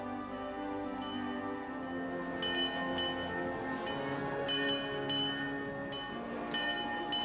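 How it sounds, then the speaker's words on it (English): Steady bell tones from an old bell in the Kent village of Otford ring out with a sustained, resonant hum, struck repeatedly at irregular intervals over a continuous low drone. "And children to school to the old bell's sound."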